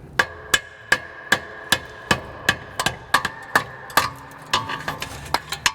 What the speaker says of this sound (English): use this like a chisel and a hammer and hope that this inner pipe isn't damaged